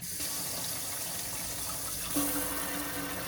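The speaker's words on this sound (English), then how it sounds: "So let me show you the water pressure." Water runs steadily from a camper van sink faucet, a broad hissing gush that grows slightly louder partway through as the flow changes, close by with no talking.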